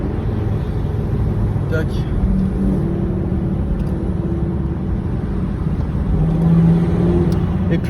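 A Volvo V50 R-Design turbo diesel with a full Akrapovic exhaust and stage 1+ tune drones steadily and loudly from inside the car, its low engine note rising slightly, while someone talks over it.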